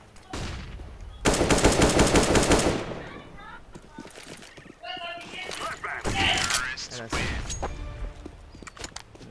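Automatic M4A1 rifle fire in the CS:GO video game, with a loud sustained burst of rapid shots followed by scattered bursts and other weapon sounds, under men chatting.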